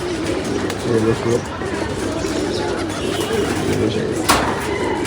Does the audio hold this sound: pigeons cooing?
yes